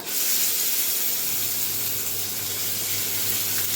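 Mashed onion paste hits hot oil already holding panch phoron and a whole dried red chilli, giving a steady, close broadband hiss and sizzle that holds evenly with no talk.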